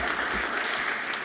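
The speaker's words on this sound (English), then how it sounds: "I heard that cheer." An audience at an alumni awards ceremony applauds and cheers in a dense, continuous wash of clapping.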